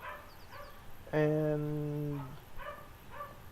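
Dogs bark outside in the point-and-click adventure game Broken Sword 5, several short yips and one long drawn-out howl-like bark, moderately close over a quiet background.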